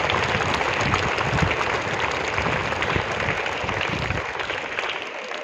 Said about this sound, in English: Please clap for all of them once again.